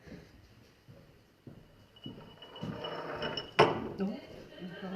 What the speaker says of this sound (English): Can you move the glass quickly towards Aaron and off the table?